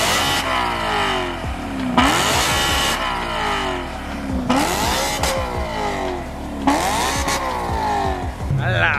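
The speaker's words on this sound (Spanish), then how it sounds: "Hay dos Shelby GT, GT500. A ver, un pisotón." A Shelby GT500 engine revs hard in three or four deep bursts, each climbing in pitch and falling back between pushes on the pedal, close by, with people talking over it.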